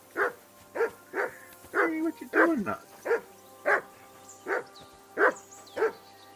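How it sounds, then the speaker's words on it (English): A dog in Kingdom Come: Deliverance 2 barks in a steady run of about ten sharp, close barks spaced roughly half a second apart, with a voice speaking over some of them. "Hey, it's my dog."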